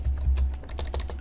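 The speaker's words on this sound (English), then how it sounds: "I can simply just start typing" Quick clicking keystrokes on a computer keyboard as text goes onto an image in Photoshop, a close, steady patter of taps that thickens toward the end, with no talking.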